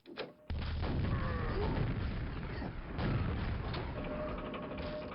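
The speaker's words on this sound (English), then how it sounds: "I don't usually rocket jump into that" A rocket jump in the video game Quake sets off a heavy game explosion that starts abruptly and booms in a dense, rumbling burst, followed by a sustained roar, mechanical clatter and a second blast.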